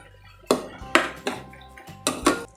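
Utensils clink against a bowl while veg cheese bread pocket filling is mixed, several sharp ringing taps at irregular intervals, close and fairly loud, with quiet gaps between strikes.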